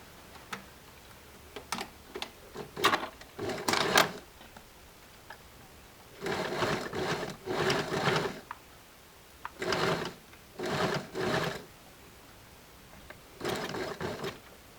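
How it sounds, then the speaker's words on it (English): A sewing machine stitches right along the edge of fabric covering the front of a top, running in short bursts of rapid mechanical ticking separated by pauses, fairly close and clear with no talking. "what I want to do is I want to stitch right on the very edge there"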